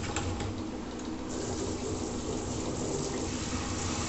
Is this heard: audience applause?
no